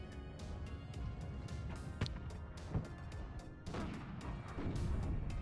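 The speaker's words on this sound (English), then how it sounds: "Artillery is in though and will be firing at that corner." Artillery firing in WARNO, with scattered booms and thuds over a constant rumbling battlefield bed, fairly faint and distant, a few sharper impacts standing out.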